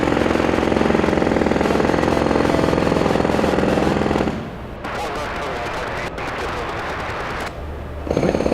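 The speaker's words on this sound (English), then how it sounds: "Let me know if you guys can hear me over the big construction sound" Heavy construction machinery pounds and rumbles continuously from below, a loud, dense hammering roar that drops briefly and returns; a person talks over it.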